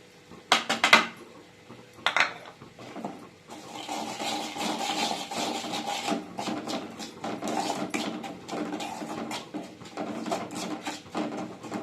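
Vegetables for a mixed vegetable pickle, seasoned with chilli powder, are added to a pan on the stove and stirred, with a few sharp metal clatters first, then a steady scraping and clinking of a utensil against the pan.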